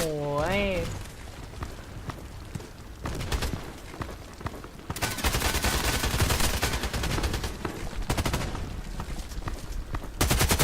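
Rapid bursts of gunfire and explosions from an AK-12 in the first-person shooter Contract Wars, loud and dense with repeated volleys, under a faint tonal game cue at the start.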